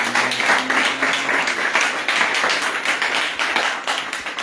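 A congregation at a church service claps in a fast, steady rhythm, loud and close, with a faint held tone under the continuous beat of many hands.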